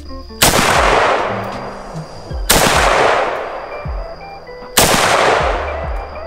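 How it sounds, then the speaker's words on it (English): Three loud AK rifle shots, a few seconds apart, each a sharp blast followed by a long echoing decay. "This thing's so fucking loud,"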